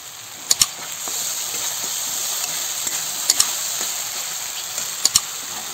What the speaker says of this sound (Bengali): এই যে আমার মশলাটা ভালো করে ভাজা হয়ে গেছে।